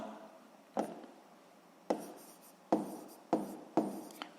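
A pen writing out the answer to a sixth-grade maths exercise, heard as five separate scratchy strokes, each starting sharply and trailing off, close by with no talking.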